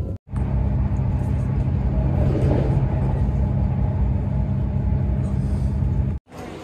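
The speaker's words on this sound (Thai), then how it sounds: "ตอนนี้อยู่บนรถไฟแล้วนะคะกำลังไปที่" A passenger train bound for Copenhagen airport carries a steady low rumble and road-like roar through its interior. The sound continues loud and unbroken between two abrupt cuts.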